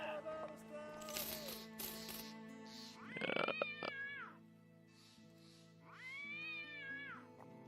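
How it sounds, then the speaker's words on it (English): Screaming cats in the video game Battle Brothers: yowling, wavering meows that rise and fall over a busy game soundscape, with two long drawn-out cries near the end. "screaming cats and all that"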